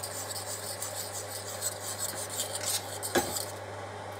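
A utensil scrapes and rubs steadily through thick béchamel sauce in a pan, a soft continuous rasping under a low electrical hum, with one sharper clink near the end.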